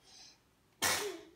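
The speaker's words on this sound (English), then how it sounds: "Did you sneeze?" A sixteen-month-old toddler gives a single sharp sneeze, close and sudden after a quiet moment of soft indoor sound, trailing off into a brief breathy tail.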